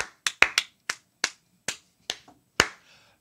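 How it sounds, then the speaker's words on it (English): A slow, sarcastic hand clap: eight or so sharp, isolated claps spaced unevenly over about three seconds, close and fairly loud, with one softer tap between them and a brief trailing rustle after the last. "That's a sarcastic clap, and I do not appreciate it."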